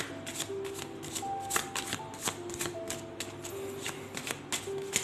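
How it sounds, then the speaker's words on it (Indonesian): Tarot cards are shuffled in quick, dense riffles of crisp papery flicks, close and continuous for about five seconds. "Saya shuffle dulu kartunya."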